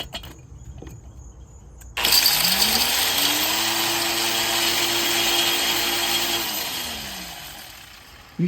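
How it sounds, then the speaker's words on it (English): A powered grinder runs steadily, crushing gold ore into powder: a sudden loud start followed by a continuous harsh, whining drone that holds for several seconds before winding down. "Let's grind some of this ore up."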